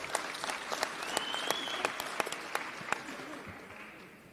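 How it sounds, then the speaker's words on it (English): Audience applause at an ANC Youth League national gathering in the Northern Cape during a political speech, steady clapping from a crowd with scattered sharper claps, holding throughout and easing slightly at the end. "Let's clap hands for that."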